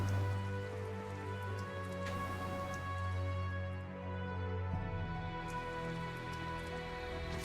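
Steady rain falls in the video game Tales of Zestiria, a continuous hiss running evenly beneath sustained background music with no pauses.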